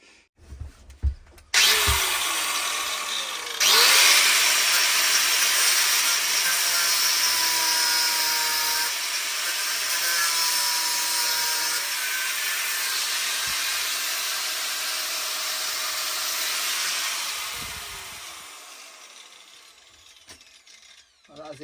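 A loud, steady high-pitched grinding whine runs for over fifteen seconds as a power tool cuts through metal car seat rails, then fades out.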